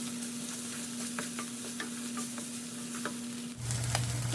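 Oregano and Italian seasoning being stirred into a sizzling pan for baked Italian penne, with a steady frying hiss and soft scraping stirs throughout, and the sizzle deepening near the end.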